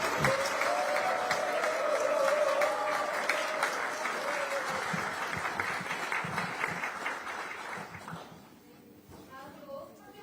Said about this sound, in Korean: 여기 계신 우리 전남 출신 국회의원님들께 박수 한번 보내주시기 바랍니다